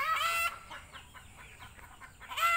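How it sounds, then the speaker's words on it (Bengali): Chickens in a village yard beside a pond: sharp loud squawks open and close the moment, with a quick run of softer clucks between them, close by and with no talk. "এই দেখছেন মুরগির কি সুন্দর শব্দ"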